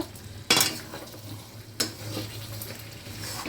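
Meat is sautéed (kosha) in a kadai, with a low sizzle of oil running under two sharp scraping clanks of a spatula against the pan, followed by ongoing stirring.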